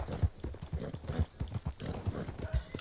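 Horse hooves clip-clop in a steady, quick rhythm in the video game Red Dead Redemption 2, a muffled, fairly quiet gait of repeated thuds with no speech over it.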